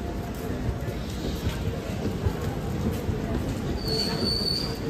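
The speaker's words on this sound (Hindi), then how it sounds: "पाटलिपुत्रा एक्सप्रेस हटिया पटना" Patliputra Express on the Hatia–Patna route in Bihar running along the track, a steady loud rumble with a faint wheel squeal and a brief high whine near the end.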